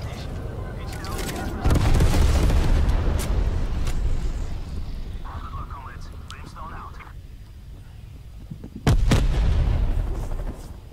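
M79 grenade launcher blasts on the Nuketown map in a shooter game: two heavy, booming explosions with a lingering rumble, and a quieter stretch of game sound in between.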